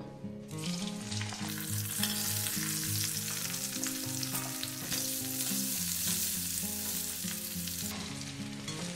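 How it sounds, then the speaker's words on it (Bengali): Cauliflower florets frying in hot oil make a steady, dense sizzle that fills the whole clip, with a tonal musical backing running underneath. "এবার আমি ফুলকপিগুলোও ভেজে নেব"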